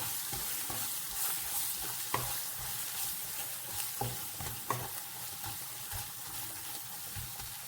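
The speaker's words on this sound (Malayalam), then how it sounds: "നന്നായിട്ട് ഇളക്കി കൊടുത്ത് ചൂടാക്കാം." Beef with spicy meat masala stirred and fried in a pan, a steady sizzle with scraping spoon strokes and occasional clicks against the metal, close and continuous with no voices.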